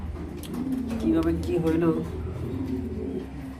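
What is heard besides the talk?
red checker pigeon cooing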